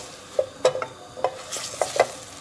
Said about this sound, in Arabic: نحطو السمن نتاعنا، فوالا ذوبوا السمن نتاعنا